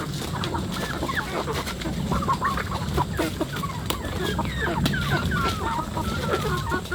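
Farm chickens cluck steadily and close by, several birds overlapping in a busy, continuous chorus of short clucks with no pauses.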